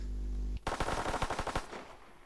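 Machine gun fire in a WWII video game: after a steady low hum, a rapid burst of about a dozen loud close shots rattles off, then fades into a short echo, with no voices.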